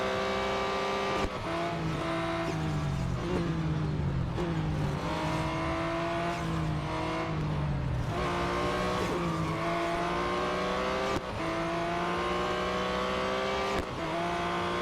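Race cars scream past and overtake one another in a lap race, engines revving high and shifting repeatedly through a sustained, loud whine with sharp rises and drops in pitch and a faint squeal of tyres.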